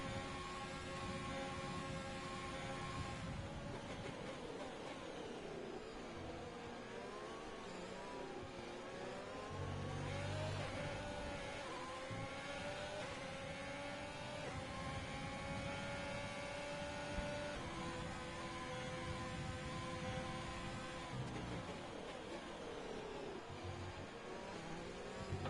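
A Formula 1 car engine in the racing game F1 2020 whines and revs through rising and falling pitch sweeps, its tone holding steady at a low, fairly quiet level throughout, with no talk.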